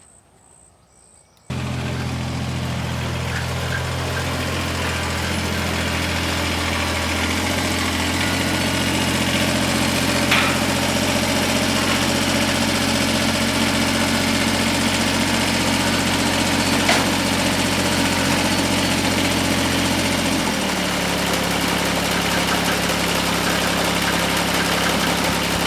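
A Kubota BX2370 compact tractor engine idles steadily after starting up, a continuous low diesel rumble with mechanical vibration that drops slightly in pitch near the end, with no talking.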